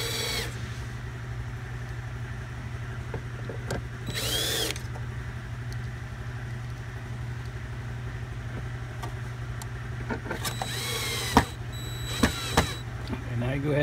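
A power screwdriver drives screws into a Master Sweeper slider in a few short whirring bursts, heard over a steady low hum along with sporadic small clicks and knocks.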